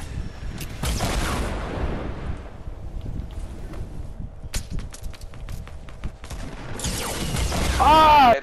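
Gunfire in the Fortnite video game crackles in bursts around a busy match, with scattered sharp shots in the middle and a louder dense volley near the end, mixed with wind-like game noise and shouting players.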